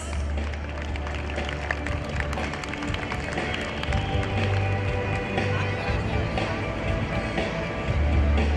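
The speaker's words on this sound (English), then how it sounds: "Please give them a big round of applause." Audience clapping at a school sports meet prize distribution for under-14 boys, a steady, dense patter of many hands that holds at an even level across the whole stretch, with faint background crowd murmur.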